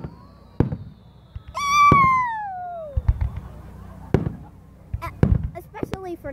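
Fireworks bursting over Canada Day celebrations: several sharp booming explosions scattered across the stretch, with a rising whistling streak near the start and crackling between, heard at moderate distance with faint voices in the background.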